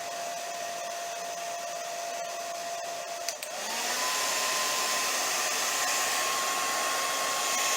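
A heat gun blows hot air to soften the glue under the headstock label of a Grote Les Paul copy guitar. The steady, close whooshing jumps louder and higher midway as the temperature is raised.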